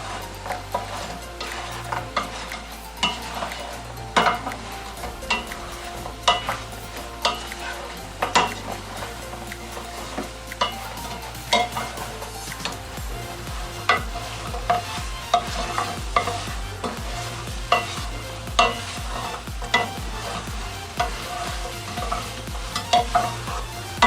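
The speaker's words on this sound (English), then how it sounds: "When it starts bubbling, go in with your nuggets. As you can hear, they're very crispy." Continuous oil sizzle with bubbling as chicken nuggets fry, and occasional stirring clinks from a pan, heard up close under a low musical backing.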